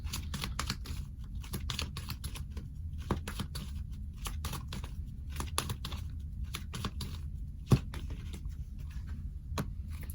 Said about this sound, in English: I'm going to go ahead and shuffle now